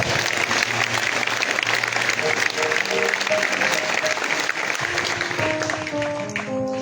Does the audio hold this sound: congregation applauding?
yes